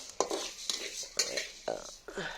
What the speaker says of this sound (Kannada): ಅದರ ನಂತರ ಜೀರಿಗೆ ಹುರಿಯೋನು